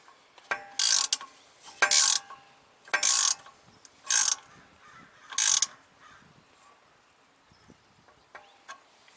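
A ratchet tightening the bottom bolt on a Raceland air suspension bag on a VW MK4, five loud bursts of rapid clicking in bursts about a second long, separated by quieter handling noises, with no talk.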